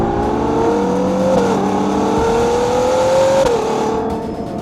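A Ferrari Purosangue SUV engine revs loudly and close up, its pitch climbing and dipping through two smooth rises over a few seconds, with no voices present.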